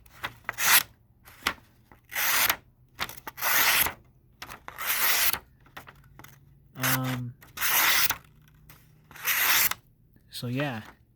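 A Spyderco Caly 3.5 knife slices through paper in a series of about eight crisp, close, rasping strokes with short pauses between, joined near the end by a couple of brief tonal squeaks.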